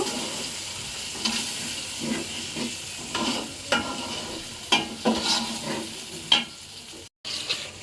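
Cardamom, cinnamon and cloves fry in hot oil alongside onion for khichuri, a steady sizzle with repeated scraping stirs and light taps of the spoon, close and moderately loud.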